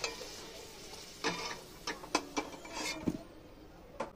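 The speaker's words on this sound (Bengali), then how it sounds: "আলুগুলো খুব লাল লাল করে সুন্দরভাবে ভেজে নিয়েছে।" Potatoes frying in oil and ghee sizzle softly as they are lifted out, with a steady low hiss broken by several sharp clicks and scrapes of a utensil against the pan.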